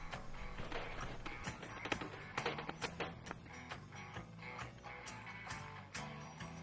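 A screwdriver turning thread-forming screws into Firefin mounting bases, a quiet close run of ratcheting clicks, creaks and small taps in an uneven rhythm, with no talking.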